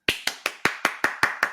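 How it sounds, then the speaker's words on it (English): Eight sharp, evenly spaced claps ring out in a steady rhythm, about five per second, close and distinct, like a single person clapping alone. "give her a round of applause"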